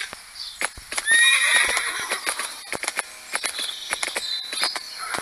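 Horses in a video game neigh and whinny while hooves clip-clop along, with crickets chirping faintly in the background.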